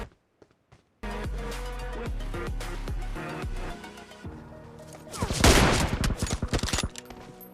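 Rapid bursts of gunfire from PUBG Mobile crack in quick succession, followed by a denser, louder volley of shots and impacts, sharp and close.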